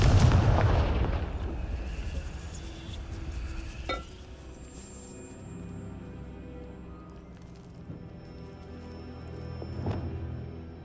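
A Confringo fire spell in Hogwarts Legacy lands as a loud, close explosive blast that fades into crackling debris, followed by quieter rumbles and a smaller burst later.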